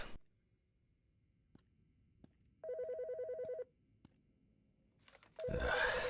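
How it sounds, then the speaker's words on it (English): A telephone rings in the Autopsy Simulator video game, with one steady electronic ring burst of about a second, then a louder ring starts near the end over low background hum. "The fucking phone."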